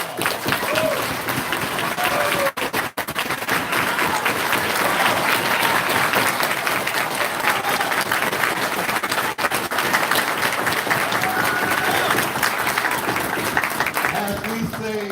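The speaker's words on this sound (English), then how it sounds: "Let's give a round of applause." A round of applause from the audience at a Hebrew summit gathering, steady dense clapping from a sizable crowd lasting throughout, with a brief dip partway and some voices mixed in.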